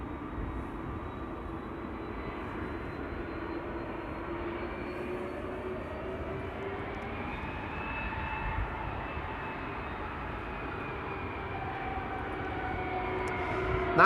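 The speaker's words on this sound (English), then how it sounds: "Turkish Airlines, flight 1952 coming this way." A Turkish Airlines jet on flight 1952 passes over Amsterdam Schiphol Airport, a steady, moderately distant engine roar with a slowly shifting whine that builds gently toward the end, no voices over it.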